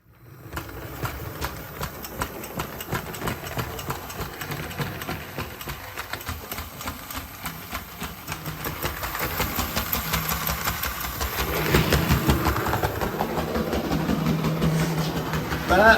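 A small On30 model steam locomotive, bought broken with missing parts, runs around its track with a steady whirring motor hum and rapid ticking clatter that grows slightly louder toward the end.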